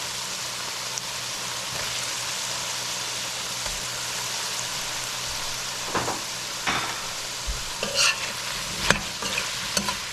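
A gilbaka fish stew with potatoes cooking in a pot, giving a steady low simmering hiss, with scattered knocks and scrapes of a spoon stirring toward the end.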